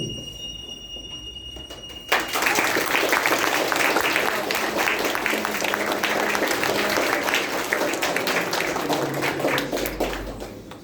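Hearty applause from a school assembly audience for the student actors at a May 3rd Constitution Day commemoration, breaking out suddenly and holding loud and steady, dense clapping filling the hall for several seconds.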